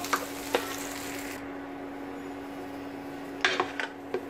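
Curry leaves and chutney ingredients sauté in a pan, a steady soft sizzle with a few scraping stirs of a spatula against the pan at the start and near the end.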